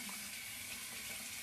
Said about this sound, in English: All right, a little warm water